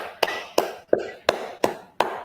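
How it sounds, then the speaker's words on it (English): An audience at a school nutrition debate in Kano applauding a winner with six crisp, evenly spaced claps in unison, about three per second, each sharp and close with a short ring after it. "let's have a hand of applause for him or her"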